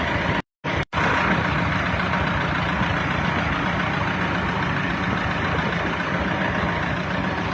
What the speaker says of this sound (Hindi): ट्रैक्टर ट्राली राइड हो रही है भाई।